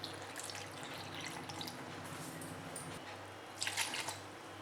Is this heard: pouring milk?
yes